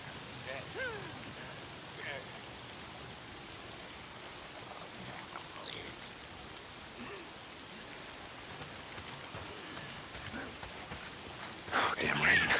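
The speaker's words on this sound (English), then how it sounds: "Oh, damn rain." Rain falling in the video game Days Gone, a steady faint patter across the whole stretch that swells louder near the end, with brief faint sounds scattered through it.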